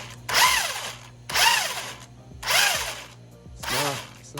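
A DeeRC 1217 1/14 scale RC car's brushless motor spins the wheels in four short bursts, each a rising and falling high-pitched whine with pauses between, close and moderately loud.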